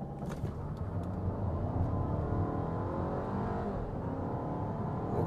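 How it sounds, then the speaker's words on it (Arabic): A Volkswagen New Beetle Convertible accelerates in sport mode, its engine note a steady, loud drone rising gradually in pitch, heard from inside the car with no speech. "وندي لها شويه بنزين في المود اس."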